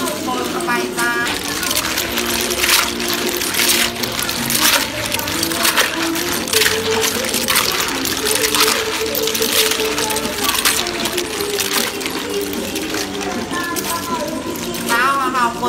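A spicy Thai shellfish salad with clams and raw shrimp being stirred and mixed, giving a steady run of wet clattering and scraping throughout, heard under continuous speech.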